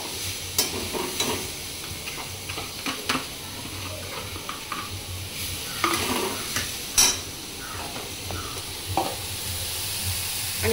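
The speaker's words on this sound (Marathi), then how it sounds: "गूळ वितळेपर्यंत आपल्याला खोबरं भाजून घ्यायचं आहे।" Grated coconut and jaggery roast in ghee in a pan for modak filling, stirred continuously with a spatula, giving scraping strokes and taps over a soft, steady sizzle, close and without talk.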